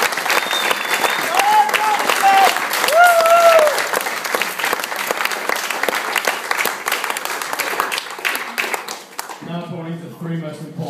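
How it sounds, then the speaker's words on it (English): Audience applause at a thank-you party for a Kenya fundraiser, a long, full burst of clapping with some whoops filling the room, under talk at the start, then easing off near the end. "So please, a big round of applause."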